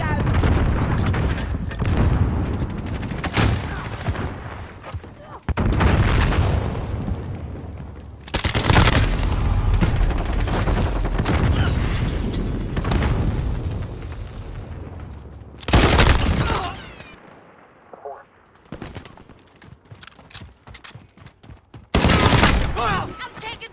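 Bursts of gunfire and explosive booms from a shooter video game come in dense, loud volleys separated by quieter gaps, with a voice calling out between bursts.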